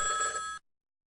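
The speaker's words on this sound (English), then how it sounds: "Just then, the phone rang." Telephone ringing in a single bright, steady electronic ring that cuts off abruptly into silence.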